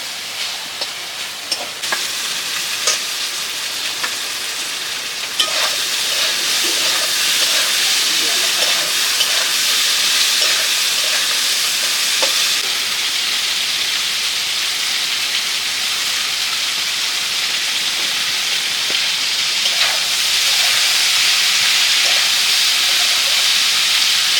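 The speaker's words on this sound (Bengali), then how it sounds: "চিংড়ি মাছগুলো ভেজে নিচ্ছি" Prawns fry in a pan with a loud, steady hiss of hot oil that swells after a few seconds and holds, with occasional spatters and utensil clicks, close up.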